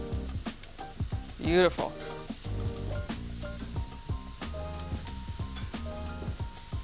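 Pork tenderloin sizzles steadily on a hot grill, a continuous crackling fry close up, with a brief exclamation from someone over it.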